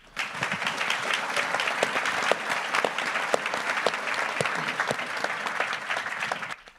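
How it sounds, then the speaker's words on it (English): An audience at a pro athlete interview event gives a round of applause, a dense, steady wash of many hands clapping close by that holds for several seconds, then tapers off quickly at the end. "You guys, can you give them a round of applause?"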